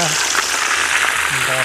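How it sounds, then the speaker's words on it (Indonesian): Wild waterhen meat sizzling loudly in a frying pan, a dense crackling hiss that runs steadily throughout as someone speaks over it. "Sekarang giliran daging ruak-ruak oris ini. Kita goreng."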